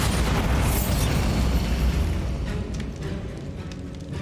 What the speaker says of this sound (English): Bombarder spell.